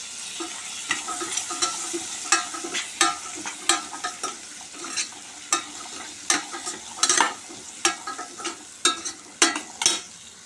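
Boiled chickpeas and garlic fry in a pan with a steady sizzle, broken by repeated sharp scraping stirs of a spoon against the metal throughout.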